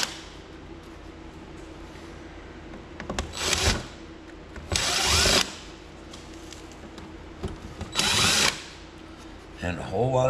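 A power drill removes screws from a 32-inch digital TV, giving three short, loud whirring bursts against a low background hum, with pauses between each run.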